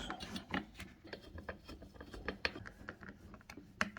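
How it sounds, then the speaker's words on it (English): Screws driven back into the plastic headlight housing of a Burromax mini bike, small irregular ratcheting clicks and ticks from a hand tool, close but faint, with no talk. "And you'll reinstall the screws."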